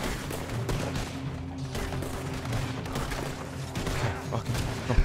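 Gunfire in Red Dead Redemption 2 during a shootout at Braithwaite Manor: a continuous stream of overlapping gunshots and thuds, loud and busy, with a voice talking over parts of it.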